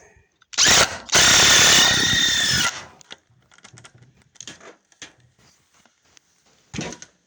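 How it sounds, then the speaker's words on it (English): A power drill whirs loudly for a couple of seconds after a short burst during shelf building, followed by scattered clicks and handling noises and a brief final whir. "Hopefully the sound of that drill doesn't take your ears off."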